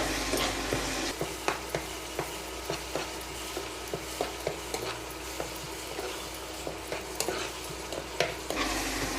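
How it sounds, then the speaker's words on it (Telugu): Ginger garlic paste, onion paste and green chillies fry on a low flame for mutton paya curry, making a dense, continuous close sizzle with regular light taps of a spoon stirring through it. "1 టేబుల్ స్పూన్ అల్లం వెల్లుల్లి పేస్ట్ని కూడా వేసుకుని మొత్తం అన్నిటిని లో ఫ్లేమ్లో బాగా వేగనివ్వాలి."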